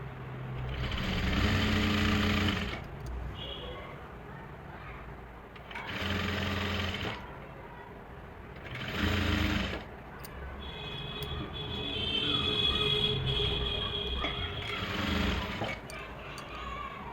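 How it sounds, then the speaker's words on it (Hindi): Domestic sewing machine stitching a suit lining, running in several rapid whirring bursts of two to three seconds with quieter gaps between, close and moderately loud. "ऐसे सीधे रखूँगी और एक पैर के मार्जिन के साथ सिलाई लगाऊंगी"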